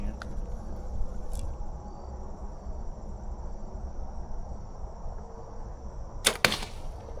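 An arrow shot from a bow strikes a TV, a sharp impact burst near the end after a quieter stretch with a faint earlier tick, over steady background hiss.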